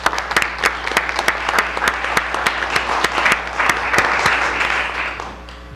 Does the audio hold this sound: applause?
yes